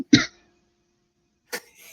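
A single sharp cough close up, followed by silence and then a softer second cough or throat sound.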